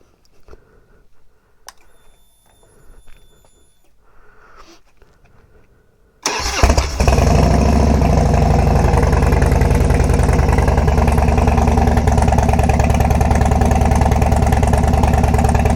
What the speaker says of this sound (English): Don't you just love the way a Harley sounds?